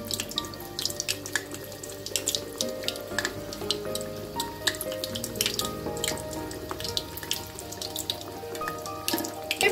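Bajra vade deep frying in hot oil, a close, continuous crackling sizzle with dense pops and bubbling that runs steadily throughout, with no voices.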